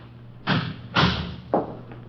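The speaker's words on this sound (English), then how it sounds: "Close the door there." A door shuts in a 1951 police radio drama, heard as three close, heavy thumps spaced about half a second apart, with no voices.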